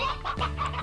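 A chicken in the Slime Rancher video game gives a few short, loud clucks in quick succession, up close and alone.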